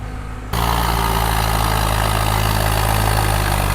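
Heavy machines build a track along a leaking embankment of the Sutlej river, their engines starting with a jump and then running as one loud, steady, close rumble with no break.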